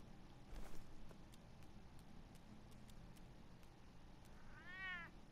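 A cat lets out one short, clear meow near the end of a quiet game scene in the Batman Telltale video game, after a faint shuffle and soft ticking sounds.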